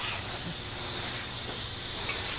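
Aerosol coating laid heavily onto a car headlight with a Meguiar's headlight restoration kit, a continuous loud hiss of spray lasting the whole stretch without pause.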